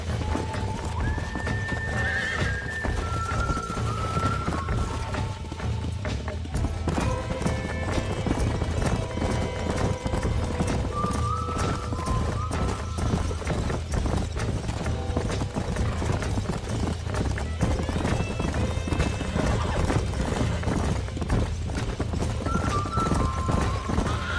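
Hooves clip-clop steadily from a wild bronco galloping in the Red Dead Redemption video game, with repeated loud neighs and whinnies over a continuous game soundscape and a little background talk.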